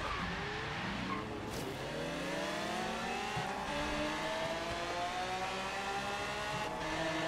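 A Pagani Zonda races in Forza Horizon 3 with a loud engine that revs and climbs through the gears, its pitch rising and falling with each shift, steady and close throughout.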